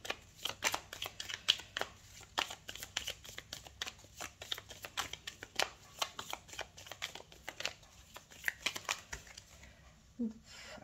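Tarot cards shuffled by hand, a long run of quick crisp riffling flutters and soft slaps, close and steady, with a brief faint voice near the end.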